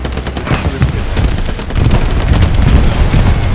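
Artillery and gunfire in the video game Hell Let Loose, with rapid bursts of shots and heavy booms overlapping in a loud, busy barrage.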